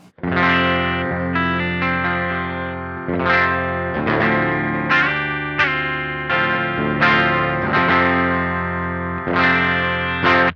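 Electric guitar through a Beetronics Wannabee overdrive pedal at low gain plays ringing chords and single notes, slightly gritty but fairly clean, sustaining between strikes with no talking.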